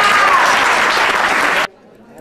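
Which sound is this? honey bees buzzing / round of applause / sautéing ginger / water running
round of applause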